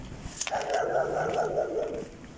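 Dogs by old railway tracks in Vladimir bark and yip in a quick run of close, repeated calls lasting a couple of seconds.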